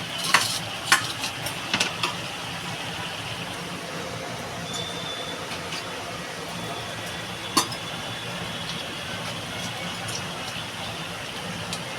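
Fried shrimp tipped into bottle gourd cooking in a pan, with soft stirring and a low steady sizzle, a few clinks of a utensil against the pan early on, then quieter simmering.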